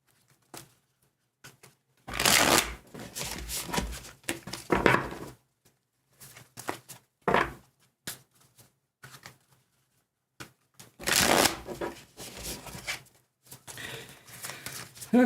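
Tarot cards are shuffled in bursts of crisp riffling and slapping, several quick rounds separated by short quiet gaps, close and clear.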